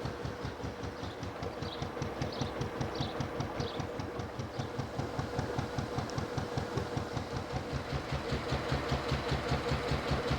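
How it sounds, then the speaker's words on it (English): Narrowboat Aslan's engine chugging on a canal, a steady rhythmic diesel thump close by that builds slightly louder over ten seconds, with faint high clanks above it and no talk. "Just the sounds of the canals, and of course the chug of Aslan."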